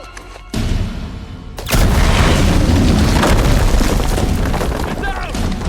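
Loud, close explosion in the video game Uncharted 4: a heavy boom, then a long roaring, rumbling tail that gradually fades.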